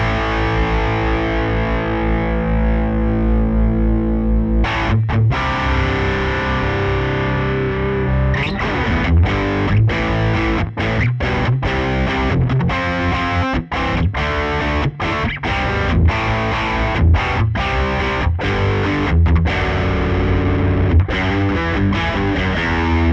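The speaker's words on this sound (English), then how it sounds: "Modern rock rhythm, if we keep the distortion up about halfway" An electric guitar played through a Suhr Riot distortion pedal, gain set about halfway, chugs out a modern rock rhythm with heavy sustained chords broken by tight palm-muted stops, loud and dry with no talking.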